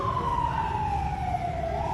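A fire truck siren wails steadily over a dense rumble of traffic and engine noise, a single continuous tone slowly dipping in pitch and then rising again near the end. It is loud and close, with no speech.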